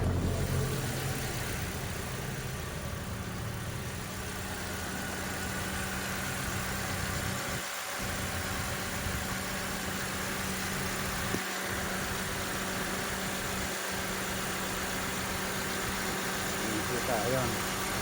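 A Toyota Avanza idles steadily with its air-conditioning compressor running, a continuous mid-low engine hum and vibration heard close throughout, with a few brief dips and someone talking over it.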